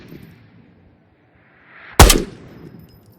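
A single loud, close gunshot rings out in the VR shooter Ghost of Tabor, fired at an opponent's hand, with a short sharp crack and fading tail after near silence.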